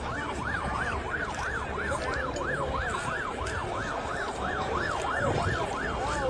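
Ambulance sirens wail continuously at a train accident scene, a repeating rising-and-falling tone over a busy background rumble, moderately distant throughout.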